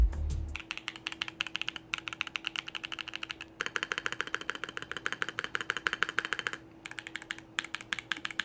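Rapid keystrokes clatter on an ROG 20th anniversary mechanical keyboard, close and crisp in steady bursts with brief pauses, with no talking.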